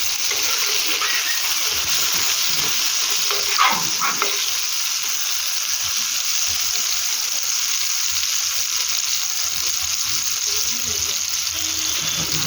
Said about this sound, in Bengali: দেখুন জিরাটা ফুটছে।